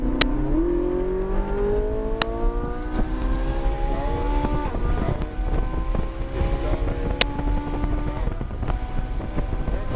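Porsche GT3 or Ferrari 458 accelerating hard on a race track, engine tone climbing steadily through the gears with rising harmonics, heavy wind buffeting throughout, loud and close from inside the car.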